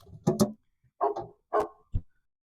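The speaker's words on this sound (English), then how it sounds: "we got the dog across the street" A dog across the street barks four times in quick, separate bursts, sharp and moderately loud against a quiet background.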